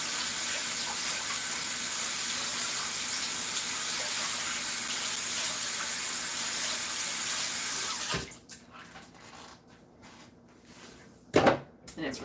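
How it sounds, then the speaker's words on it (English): Tap water runs steadily onto cabbage being rinsed in a sink, a constant close wash of water for about eight seconds, then the flow stops and only a few faint handling knocks and one brief splash follow. "I'm just going to rinse this off really quick, just so we can keep our green sauerkraut as clean as possible"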